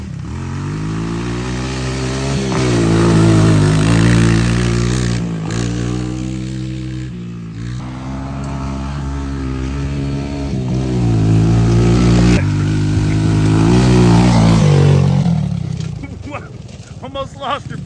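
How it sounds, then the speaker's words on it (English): An old Honda 200SX quad's engine revs hard and close while riding, repeatedly rising and falling in pitch, with talking over parts of it. "Old quad just getting whipped on, dude."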